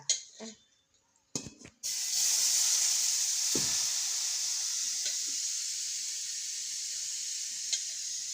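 Ration rice being dry-roasted in a pan for rice balls: a few short knocks and clatters at first, then a steady, even hiss that carries on unbroken at moderate volume.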